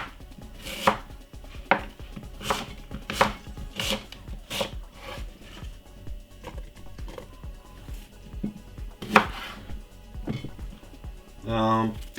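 Half a red apple chopped on a board with a knife, a series of sharp, irregular knife strikes ringing close and clear, with a louder cluster of quick rubbing sounds at the end.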